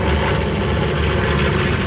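A biplane with radial engines passes overhead, its loud, steady propeller drone filling the air without a break.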